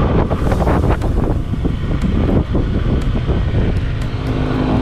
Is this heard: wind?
yes